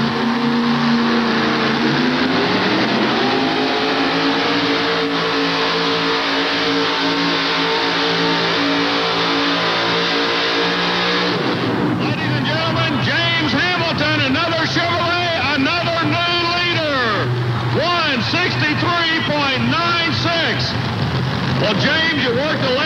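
A 5,800-pound modified pulling truck revs loudly at a truck pull, first a steady high drone, then repeated wavering surges and drops in pitch as the engine strains near and continuous, with an announcer talking over it.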